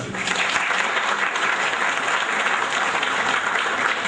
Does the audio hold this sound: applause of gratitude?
yes